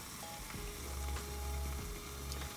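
An egg topped with pepper jack cheese sizzles steadily in a frying pan, a close, continuous crackle with a low hiss and a few faint clicks, no voices.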